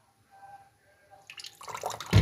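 Vinegar poured straight from a bottle into cake batter: a quiet start, then a soft, splashy liquid trickle that builds over about a second and ends in a louder wet splash close by.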